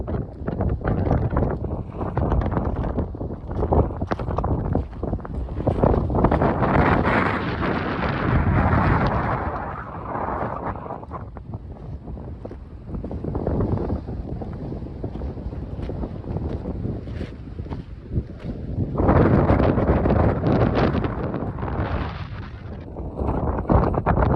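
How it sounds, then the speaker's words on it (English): Strong wind whips through an open riverbed and blasts the microphone in heavy, roaring gusts that swell and ease in waves for over twenty seconds, loud and close, with no talking. "it was super windy. The wind was whipping through this riverbed, kicking up a shit ton of dust"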